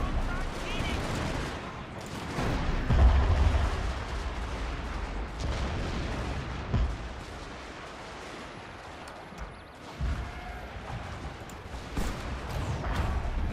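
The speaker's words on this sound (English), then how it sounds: "my howitzers are firing a bit danger close here" Howitzer artillery in Total War: Fall of the Samurai booms in scattered low thuds with some crackling gunfire over a dense battle rumble, while someone talks throughout.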